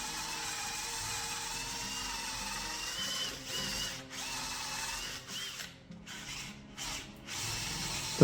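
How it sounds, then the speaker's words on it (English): A power drill fitted with a Forstner bit bores into the wood of a workbench, a steady grinding whir that dips and surges briefly as the pressure changes near the end. "first we're going to use a Forstner bit to go down to the wooded bit to hide the head of the bolt and the washer"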